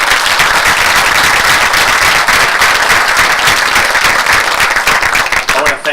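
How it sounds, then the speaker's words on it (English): A crowd at a public officials' event applauds the speakers loudly, dense sustained clapping that fills the whole stretch and begins to thin out at the very end. "Let's give all our speakers another round of applause."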